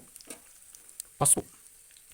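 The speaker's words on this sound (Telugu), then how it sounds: "కరివేపాకు వేసేటప్పుడు కొంచెం జాగ్రత్త, ఎందుకంటే టపటపటపటపా అంటుంది" Curry leaves hit hot oil while tempering a village-style pappu charu, giving one short, loud burst of crackling and sputtering midway, with faint kitchen sizzle before and after.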